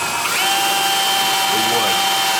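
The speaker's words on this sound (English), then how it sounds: "I got this little right angle attachment for my drill." Cordless drill fitted with a right angle attachment pre-drilling a hole into wood, a steady high whine running close and continuous through the short burst with a faint voice underneath.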